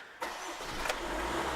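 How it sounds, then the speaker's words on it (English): A 2015 Honda Civic Sport with the 1.6 i-DTEC diesel engine cranks briefly and catches, settling into a steady close-up idle with a low, even rumble. "I'll just show you what happens when you start up the car."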